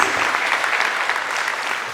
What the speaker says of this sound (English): I'd like to give everyone a loud applause for all of us for coming here